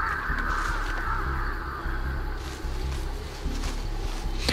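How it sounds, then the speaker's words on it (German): Crows caw in Dead by Daylight, a horror video game, over a steady low ambient drone; the calls are mid-level and blend into the eerie game background rather than standing out sharply. "Irgendwas scheucht die ganze Zeit die Raben auf."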